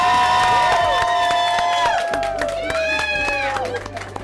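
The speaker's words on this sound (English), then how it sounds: "Let's give her another round of applause." A school education-recognition audience claps and cheers for an honored young woman, with high voices whooping and calling over scattered sharp claps and crowd noise, loud and lively throughout before easing slightly at the end.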